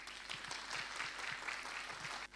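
A church congregation claps together for those who worked on Christmas preparations, a steady, dense wash of hands with no voices over it that cuts off briefly near the end.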